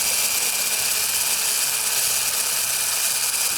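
A stick blender mixes melted chocolate into brownie batter in a hot bowl. Its close, continuous motor whir is loud and steady, with a rough churning texture and no voices.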